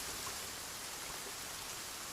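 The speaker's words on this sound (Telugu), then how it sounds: "ఏం వానరా బాబు" Heavy rain pouring down in a steady, dense hiss with no breaks or voices, filling the whole moment evenly.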